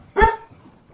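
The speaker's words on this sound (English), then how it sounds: "Sorry about the dog barking." A single short, sharp dog bark close by, standing alone against a quiet background.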